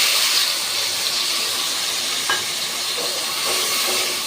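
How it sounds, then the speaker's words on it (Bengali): Spices added to fried onions in a hot pan, giving a steady loud hiss and sizzle from start to finish with a couple of faint clinks, no talking. "আমার পেঁয়াজ ভাজা হয়ে গেছে এখন আমি মশলাটা দিয়ে দেবো"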